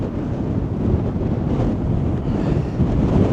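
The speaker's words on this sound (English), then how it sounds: "Looks pretty windy" Strong wind buffets the microphone in a continuous loud roar at a windsurfing beach, gusting slightly, with a wash of surf-like noise beneath.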